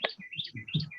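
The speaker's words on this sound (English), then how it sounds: "Someone has chirping birds in the background" Small birds chirp and tweet steadily in the background, a string of quick repeated calls at moderate volume with no talking.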